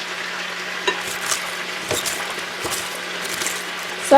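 Rice dish with cayenne pepper and salt stirred in a pot, a low steady simmering hiss with a few scraping spoon strokes and light clinks, close and without talk.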